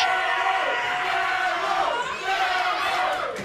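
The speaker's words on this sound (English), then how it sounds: "Listen to this crowd." A loud wrestling arena crowd roars and chants in a sustained swell of voices.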